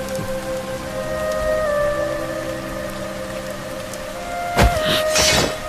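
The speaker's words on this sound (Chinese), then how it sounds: "竹林天降大雨" Heavy rain pours down in a bamboo forest as a dense, steady hiss. Sustained musical tones run beneath it, and a sharp burst swells near the end.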